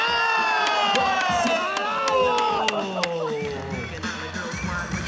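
Crowd cheering and shouting at the Brasil Skate Pro 2013 skateboarding final, a loud continuous roar of voices with whistles and yells throughout, briefly swelling mid-clip and staying dense to the end.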